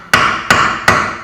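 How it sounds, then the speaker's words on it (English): Three sharp, ringing metallic hammer strikes on an Audi TT differential and axle land at an even pace, each close and loud with a brief resonant decay. "we're going to give it a few taps with the hammer"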